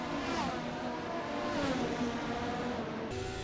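An F1 race car engine in the video game F1 2025 at the Spanish Grand Prix, a high-pitched whine rising and falling steadily through the gears, heard from onboard and loud throughout.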